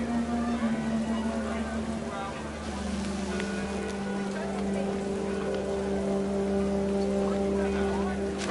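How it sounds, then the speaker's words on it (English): Heavy rain pours steadily in the video game What Remains of Edith Finch, a continuous washing hiss over a low rumble with a faint steady tone, with a voice speaking over it. "Rain came down in buckets then"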